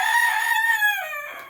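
A rooster crows once, close and clear, its loud drawn-out call sliding down and fading at the end against a quiet background.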